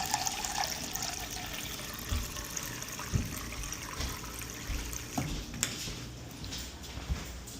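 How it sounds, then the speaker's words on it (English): Tap water runs into a pot for oxtail soup, a steady, soft trickling wash with small splashes and occasional clinks, fairly quiet and continuous throughout. "So I'm gonna fill up 2 liters of water"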